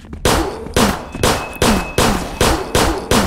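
Repeated gunshots from a weapon in the zombie shooter game Zompiercer, about seven loud, sharp blasts at a steady rhythm of roughly one every half second, each with a short ringing tail, with no voices.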